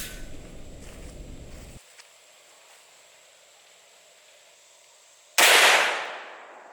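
A Desert Eagle .44 Magnum pistol is fired into a ballistics gel block, a single loud close gunshot that cracks sharply and rings out after a quiet stretch of faint handling noise.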